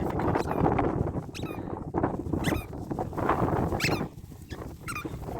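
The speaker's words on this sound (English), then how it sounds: "One squeaky ball." Squeaky dog toy ball giving several short, sharp squeaks at irregular intervals outdoors, mixed with heavy wind noise buffeting the microphone.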